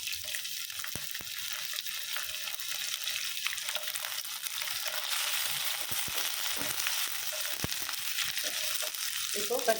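Mutton cutlet mixture sautéing in a pan with garlic, then ginger going in, giving a steady, close sizzle and crackle with occasional light stirring taps throughout.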